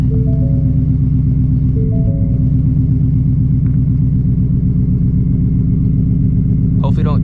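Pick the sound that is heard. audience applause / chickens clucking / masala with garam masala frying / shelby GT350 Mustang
shelby GT350 Mustang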